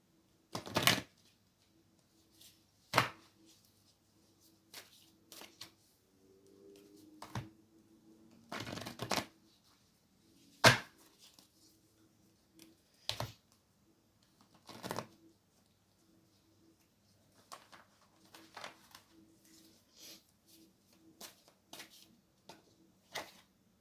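Angel cards being shuffled by hand in a quiet room, with sharp riffling bursts and soft card clatter repeating irregularly every couple of seconds over a faint low hum.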